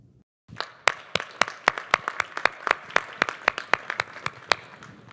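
A small conference audience welcomes a Space Force general to the stage with a burst of individual, distinct handclaps, close and sharply spaced, after a brief silence.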